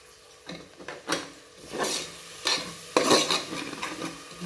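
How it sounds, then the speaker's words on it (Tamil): Moong dal being stirred into pongal in a cooking pot, with a spoon scraping and clinking against the metal in several uneven strokes under a faint sizzle, close and fairly loud, with no talking. "நல்லா ஒரு கிளறிடலாம்."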